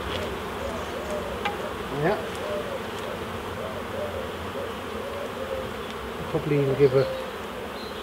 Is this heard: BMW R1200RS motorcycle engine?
no